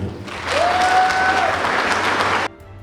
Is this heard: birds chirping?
no